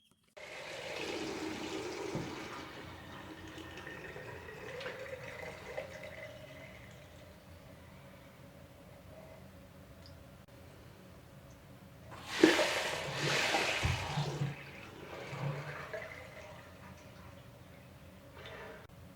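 Water draining from opened taps after the gate valve at the water meter is shut, a faint trickle and gurgle that is followed later by a louder rush and splash, close by, with no talk.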